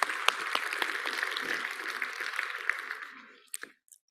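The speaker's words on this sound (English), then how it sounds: "Can we have another round of applause for the Honourable Rachel Brooking?" An audience at a government session applauds a minister, sustained hand-clapping with a few sharper claps that thins out and fades, ending in a handful of scattered last claps.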